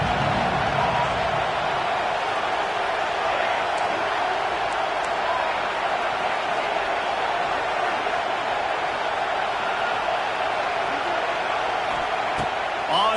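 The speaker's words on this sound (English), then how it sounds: "how nice is it to have the home crowd going absolutely bananas?" Home crowd at a Tennessee vs. Oklahoma college football game keeps up a steady, dense roar the whole time, a broad wash of noise with a commentator's voice talking over it.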